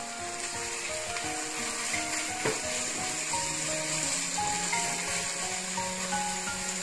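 Scallions stir-frying in a hot pan with garlic, a steady loud sizzle running the whole time, with scraping and stirring against the pan and faint background sounds.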